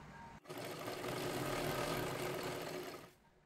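A sewing machine stitches a blouse in one continuous mechanical burst of about three seconds, a rapid close whirring that starts abruptly and fades out at the end, with no talk.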